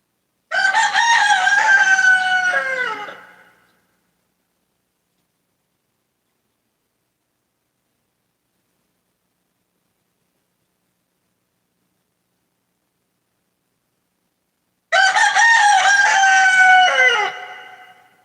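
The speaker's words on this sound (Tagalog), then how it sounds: "Ang ingay mo naman manok" A rooster crows twice, each call about three seconds long, loud and close, with a long stretch of silence between the two calls.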